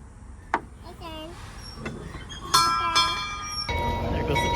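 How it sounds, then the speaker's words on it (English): At a train museum in San Antonio, a small train rolls past with clanking and rumbling that swell louder toward the end, while children and adults chatter and exclaim over it. "There goes the train again."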